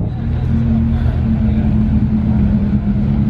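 A Porsche spinning out on a track produces a loud, steady engine roar with a strong low hum that holds throughout, close and continuous with no clear tire screech.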